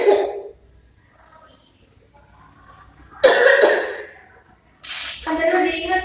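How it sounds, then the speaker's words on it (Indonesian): Deliberate coughing demonstrated during a health-promotion lesson on cough etiquette, with a burst of harsh coughs near the middle and another cough toward the end, separated by quiet, close to the microphone. "kalau batuk, kalau nggak ada tisu sama masker, batuknya gini"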